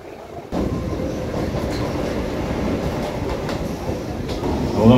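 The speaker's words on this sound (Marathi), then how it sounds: "पुढची रेल्वे आलेली आहे 9:16ची पनवेल" An elevated Mumbai harbour line local train bound for Panvel rumbles steadily, the loud continuous rolling of wheels and carriages starting abruptly and swelling toward the end.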